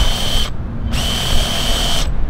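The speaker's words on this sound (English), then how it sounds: "So let's go ahead and measure and drill it in." A power drill bores a hole for a grape vine trellis, whirring steadily in two close bursts, a high motor whine over a grinding rumble, with a brief pause between them.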